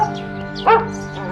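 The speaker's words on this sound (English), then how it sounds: "He met a dog on the way" A dog gives one short, whiny bark, close and moderately loud, over a steady low hum.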